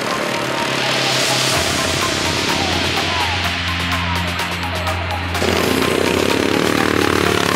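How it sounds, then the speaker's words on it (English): Racing lawnmower engines at the British Lawnmower Racing world championship drone and buzz loudly and continuously, with rising and falling revs and a crackling rattle midway, heard outdoors with no talking. "welcome to the World Championships of the British Lawnmower Racing"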